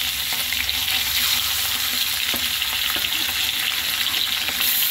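Fish sizzling in hot oil in a wok, a dense, continuous crackle up close with occasional soft clinks of stirring and no voices.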